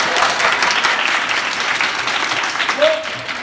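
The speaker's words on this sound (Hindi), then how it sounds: "तालियां बजा दो" Sustained applause from a crowd at a school event, a thick, even stretch of many hands clapping at close range, with a brief voice cutting through near the end.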